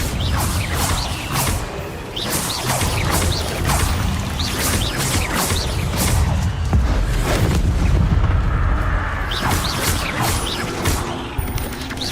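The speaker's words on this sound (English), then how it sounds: "Incendio!" The Incendio fire spell is cast in a Hogwarts video game, bringing a dense string of booming whooshes and crackling bursts that repeat steadily and loudly throughout.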